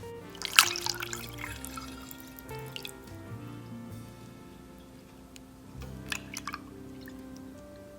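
Bone broth trickling through a funnel and sieve into 1-liter mason jars, soft liquid pouring and dripping with a few light glassy clinks, faint and close.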